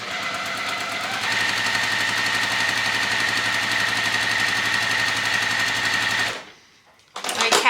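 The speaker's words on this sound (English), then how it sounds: "we're just going to sew down that line" A domestic sewing machine stitches quilt fabric pieces in a steady, rapid mechanical run lasting about six seconds, loud and close, then stops abruptly before a brief handling noise.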